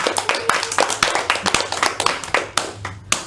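A classroom of students clapping together in a quick, uneven burst of individual hand claps, close and lively, tapering off toward the end.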